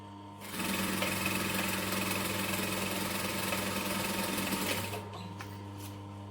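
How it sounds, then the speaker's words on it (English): A sewing machine runs continuously at a steady fast pace with a bobbin nearly out of thread, close and loud, then stops abruptly near the end, followed by a few faint clicks. "I have a sneaking suspicion I'm going to run out of bobbin soon. It just sounds like it."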